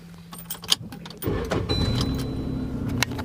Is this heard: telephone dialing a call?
no